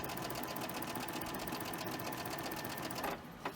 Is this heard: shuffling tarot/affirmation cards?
no